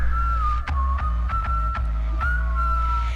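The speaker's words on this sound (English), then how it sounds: "We got to know about the whistle." A whistled melody in a song, a single sustained wavering whistle tone carried over a loud beat with heavy bass and sharp rhythmic hits throughout.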